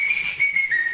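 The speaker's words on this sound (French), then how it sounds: "Mais pourquoi sifflez-vous comme ça?" A person whistles one steady, shrill, sustained tone for under a second, close and loud, alone with no talk.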